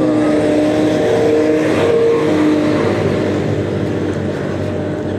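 Bus engine straining up a steep incline on a mountain road near Ciater, a loud, heavy, sustained low drone with a faint whine on top, steady and close throughout.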